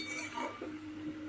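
Fried Malabar spinach being stirred and mixed in a pan, a steady scraping and soft clinking of a utensil against metal with faint background hiss.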